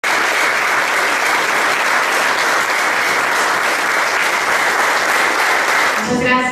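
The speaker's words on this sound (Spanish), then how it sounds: "Muchas gracias a todos y todas por esos aplausos" Loud, sustained applause fills the room at a human rights report presentation in Cauca, an even crowd roar of clapping, with a voice beginning to speak just as it ends.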